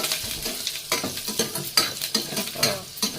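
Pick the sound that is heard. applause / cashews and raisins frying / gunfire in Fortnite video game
cashews and raisins frying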